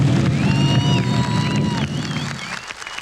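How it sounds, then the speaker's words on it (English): At an engine pulling contest, a crowd cheers and roars loudly and continuously in an outdoor setting, with whistles and shouts rising over the din before it eases slightly toward the end. "The crowd goes nuts."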